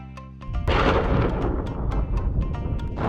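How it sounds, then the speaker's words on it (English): A deep, loud rumble of thunder rolls in and sustains, with sharp crackling bursts scattered through it. "Thunder rolled loud and lightning lit up the gloomy sky"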